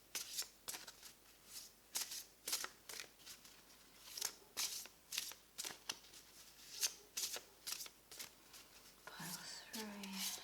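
Dragon oracle cards are shuffled by hand in repeated quick, crisp riffles and slaps, close and quiet, in a steady rhythm, with a brief soft voice near the end.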